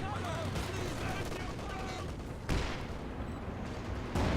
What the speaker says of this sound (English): that's a double Werfer barrage there